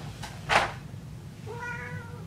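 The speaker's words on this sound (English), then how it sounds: "That was my cat talking." A house cat gives one short, clear meow near the end, preceded by a brief soft rustle, with a faint steady hum in the background and no talking.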